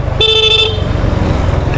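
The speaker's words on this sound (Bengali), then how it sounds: "এই হচ্ছে হর্ন।" A single short honk from the horn of a 2023 Suzuki Gixxer motorcycle, loud and close, over a steady idling engine.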